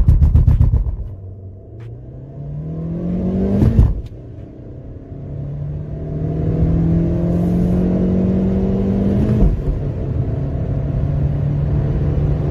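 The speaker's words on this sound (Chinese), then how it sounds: "下面先测下百公里加速。" An MG ZS with a 1.5-litre naturally aspirated engine and five-speed manual gearbox accelerates hard from a standstill, its engine note climbing steadily with brief dips at gear changes, loud and close without speech.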